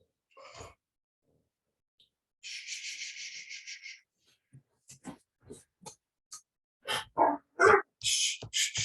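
A dog barks and yelps in short separate bursts indoors, close by, with longer whining howls between them and quiet gaps in between.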